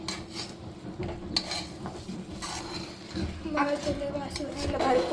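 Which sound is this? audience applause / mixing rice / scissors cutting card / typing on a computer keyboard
mixing rice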